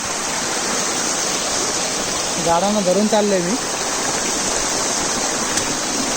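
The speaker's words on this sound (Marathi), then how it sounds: "पाऊस भरपूर झाला त्यामुळे पूर्ण वरतून डोंगरावरून पाणी येतं" Rainwater rushes down a mountainside after heavy rain on the Ghangad Fort trek, a steady broadband wash running through the whole clip while a person speaks briefly in the middle.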